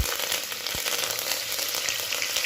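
Mustard seeds, cumin, onion, curry leaves and ginger-garlic paste frying in hot oil, a dense, loud, continuous crackling sizzle that holds steady throughout, close up with no talking.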